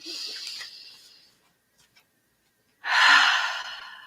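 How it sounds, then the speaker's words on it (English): A deep cleansing breath taken during a guided moment, an airy breathy rush near the mic, then a pause of near silence before a second, louder breath. "Breathe in."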